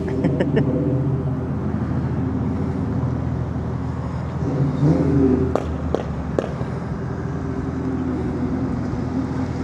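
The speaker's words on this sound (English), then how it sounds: "Some more cars pulling up." Several cars rolling into a dark meetup spot, a low steady engine rumble filling the scene with a brief rev swelling midway and a few sharp clicks or knocks near the end, no voices.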